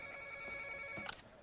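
A telephone rings with a steady electronic trill, faint and slightly distant in a quiet room, ending in a soft click.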